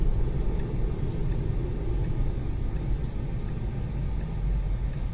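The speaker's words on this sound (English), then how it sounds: "it's actually completely driving itself right now" A Tesla on Full Self-Driving (HW3 hardware) gives a steady low road rumble and tire noise inside the cabin, continuous and fairly loud, with no talking.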